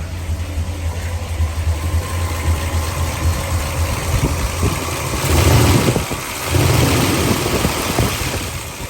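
A 1978 Chevrolet Malibu engine with dual exhaust idles with a deep, throaty rumble, then is revved twice near the end in loud, rough bursts before settling back.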